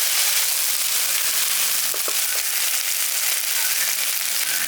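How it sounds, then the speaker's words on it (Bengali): Ginger-garlic paste frying in hot oil in a pan, a close, bright, continuous sizzle with scattered crackles and pops running through the whole moment. "আদা রসুন বাটাটা দিয়ে হালকা একটু ভেজে নিচ্ছি।"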